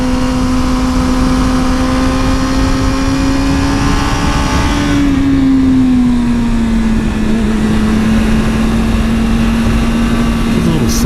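A blue BMW motorcycle cruising along a slippery road with a rut, its engine holding a steady, loud drone under heavy wind rush for the whole stretch, the pitch dipping slightly midway.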